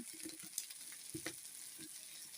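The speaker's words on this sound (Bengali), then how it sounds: "যে কড়াইয়ে আলু ঢেলে দিলাম আলু ভাজছি এখন" Potatoes fry in a wok for a home lunch, a steady close sizzle with a few soft stirring knocks, no talk.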